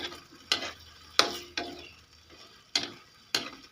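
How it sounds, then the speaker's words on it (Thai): Holy basil being stir-fried for pad kaprao in a pan: a spatula scrapes and tosses in about five separate strokes at an uneven rhythm, close and moderately loud over a low sizzle. "ผัดกะเพรา"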